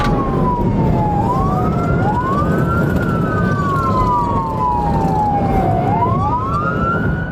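A police car siren wails loudly and continuously, its pitch sweeping up and down, over the rumble of the fast-moving patrol vehicle.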